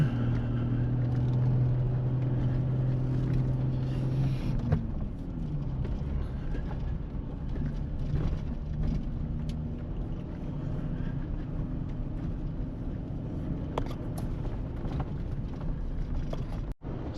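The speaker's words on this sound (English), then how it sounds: "Driving through some pretty tall brush." Truck carrying a camper crawls along a rarely used trail through tall brush in the Mojave Preserve, giving a steady low engine drone with scraping rustles and creaks of vegetation against the body, and a brief low hum early on.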